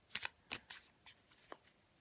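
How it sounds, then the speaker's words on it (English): A deck of tarot cards is shuffled by hand, a handful of quick, crisp riffling bursts in an irregular rhythm, close and fairly quiet with no talking. "you can really shuffle them like this, which feels really cool"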